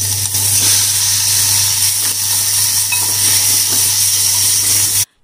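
Chicken pieces fry in a pot of hot oil with ginger and garlic paste, giving a steady loud sizzle with a low hum beneath it before the sound stops suddenly.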